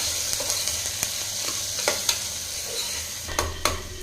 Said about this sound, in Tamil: தக்காளி வந்து வதங்கட்டுங்க